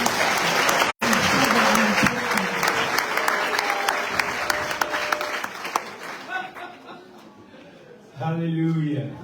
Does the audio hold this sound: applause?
yes